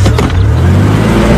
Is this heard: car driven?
yes